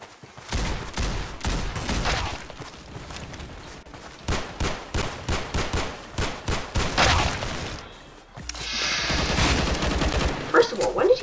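Gunfire in a Roblox gun game comes in dense bursts and rapid volleys of shots. A rhythmic string of single shots falls in the middle, followed by a steady loud stretch of firing.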